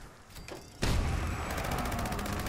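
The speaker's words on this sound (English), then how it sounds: "Those explosions in your face is insane." Explosions from a Gauss minigun in the Fallout 76 video game, a sudden loud blast followed by rapid repeated booming bursts that continue steadily.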